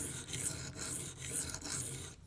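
Gritty rhythmic scraping of a Microtech UTX-70 knife edge drawn across a Venev pocket diamond stone, close and steady with even back-and-forth strokes.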